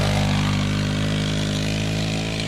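A Sunl SLA 90cc Chinese four-wheeler engine revs hard and steadily, a loud buzzing drone held close by without a break and with no talk.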